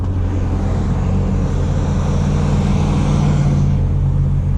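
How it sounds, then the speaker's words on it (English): A 2019 Dodge Challenger Scat Pack Widebody driving, heard from inside as a loud, steady low engine drone with road rumble and no speech. "we're getting behind the wheel of the 2019 Scatpack Widebody"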